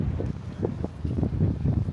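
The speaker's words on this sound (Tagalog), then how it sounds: "Lagi naman dito mahangin." Wind buffets a microphone outdoors with a low, gusty rumble that rises and falls steadily throughout.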